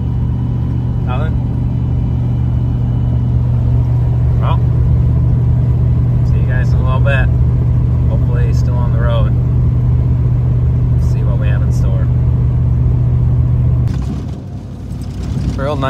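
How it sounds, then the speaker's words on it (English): A four-wheel drive vehicle rolls along an icy gravel road during an ice storm, its engine giving a steady low rumble with tire crunch throughout while people talk inside the cabin, before the drone drops near the end. "This is four-wheel drive on gravel road."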